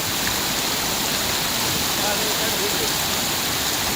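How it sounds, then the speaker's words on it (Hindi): Floodwater gushing through the opened gates of the overflowing Ujani dam during heavy monsoon rains, a loud, steady, broadband roar of rushing water that holds unbroken for the whole stretch with no other sounds. "कई दरवाजे खोलने पड़े हैं क्योंकि डैम ओवरफ्लो हो रहा था"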